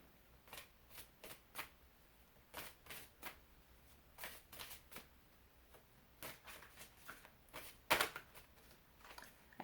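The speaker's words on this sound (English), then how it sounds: "I'm going to give this one a good shuffle." A Natural Enchantments Oracle deck being shuffled by hand, giving a series of quick, close papery riffles and flutters in uneven bursts, with one sharper card snap near the end and no talking.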